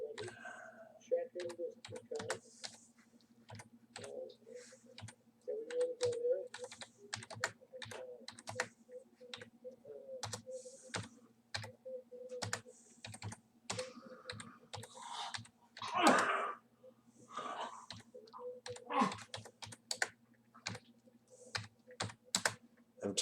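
Typing on a computer keyboard during a live stream, a long run of irregular key clicks in quick bursts with pauses, near and fairly quiet, with occasional speech in between.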